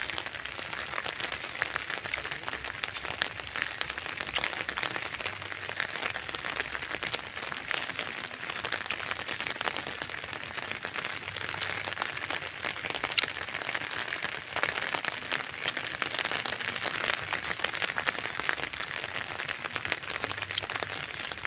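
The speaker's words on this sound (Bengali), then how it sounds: "প্রচুর পরিমাণ বৃষ্টি" Steady, dense hiss of rain pattering continuously on surfaces, even and unbroken throughout with no voices.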